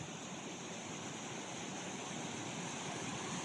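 Strong, fast-flowing river water near the washed-away Kijabe railway tunnel at Mai Mahiu in Kenya, a loud steady broadband rush filling the whole clip with no voices.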